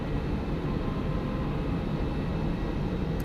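An All Nippon Airways airliner taxiing at Sydney Airport, a steady, far-off jet engine roar that holds without change, heard alone.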